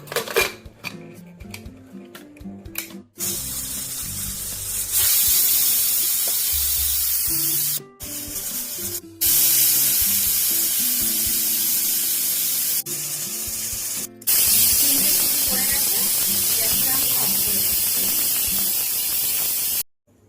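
A pressure cooker on goat curry lets off loud hissing bursts of steam, several long whooshing releases separated by short pauses, with rattling weight and clinking sounds between them.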